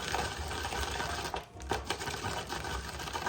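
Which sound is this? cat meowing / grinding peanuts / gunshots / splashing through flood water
grinding peanuts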